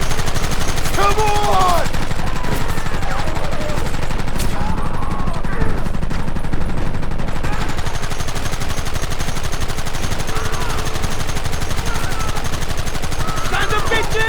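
Dense gunfire from the video game Red Dead Redemption fills the scene, with continuous loud shots and rattling volleys over a heavy rumbling background and a brief shout from a voice.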